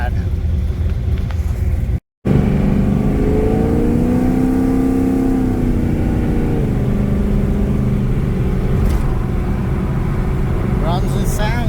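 Cammed LT1 V8 in a 1996 Camaro pulls away and accelerates, a deep rumbling exhaust note rising and easing under steady cabin noise, with a voice speaking over it.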